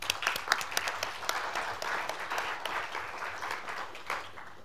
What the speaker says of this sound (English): please give the three presenters some applause